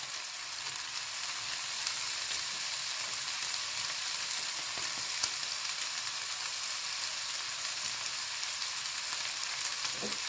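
Cumin and turmeric sizzle steadily as they are stirred in a hot frying pan for a chicken samosa filling, a close, even crackling hiss with soft scraping and no voices.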